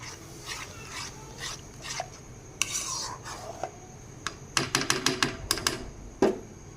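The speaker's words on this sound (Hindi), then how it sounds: "इसको अच्छे से मिक्स कर लेंगे।" A raw mango sherbet mixture is stirred in a cooking pot, with a metal spoon clinking and scraping against the pot in irregular bursts and a quick cluster of sharp taps near the end. A low kitchen background sits underneath.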